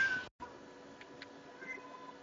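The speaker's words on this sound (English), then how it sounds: "he jumps up on your side of the bed and, like, meow, meow, meow, going all nuts like he is right now" A pet cat meows indoors, a short rising call near the start followed by a brief gap and faint chirpy sounds, fairly quiet over low room hum.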